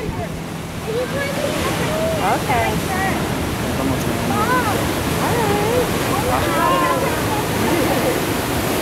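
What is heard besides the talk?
ocean waves surf at Santa Cruz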